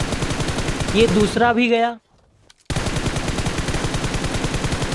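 Rapid full-auto M416 rifle fire in the mobile shooter game BGMI, loud and relentless, broken by a short pause for a reload before the burst resumes; someone speaks briefly over the shooting.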